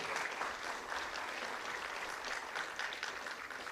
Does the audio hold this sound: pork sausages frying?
no